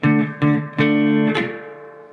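Distorted electric guitar rips through a song intro part 2 at full speed, four quick chord strikes in a tight rhythm, the last one ringing out, loud and up close with no talking.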